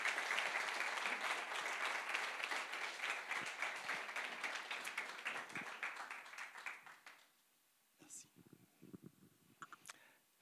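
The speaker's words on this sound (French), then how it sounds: "Est-ce que vous êtes d'accord de l'applaudir?" An audience claps steadily for several seconds, then the applause fades into quiet, with a few soft murmurs and voices at the end.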